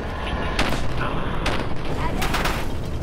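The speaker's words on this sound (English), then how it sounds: "Can I shoot the fusion core?" Gunfire aimed at a fusion core in the survival mode of Fallout 4, dense booming shots layered over one another at close range, with a heavier blast-like thud amid the volley.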